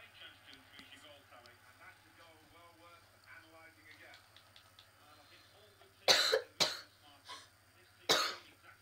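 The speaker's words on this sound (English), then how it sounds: "just had a coughing attack." Several harsh, explosive coughs burst out loud and close in a short coughing attack, following a stretch of quieter talk over faint background commentary and a low steady hum.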